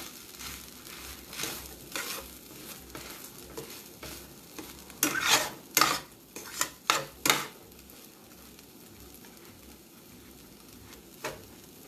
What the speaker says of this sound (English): Just keep on stirring and mix it nicely